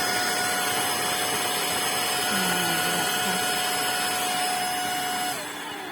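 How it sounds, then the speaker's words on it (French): A Tineco wet floor cleaner sucking up the liquid it has sprayed, a loud, steady motor whir with a sustained high whine that drops in pitch and level near the end, close by. "Il aspire ce qu'il a injecté."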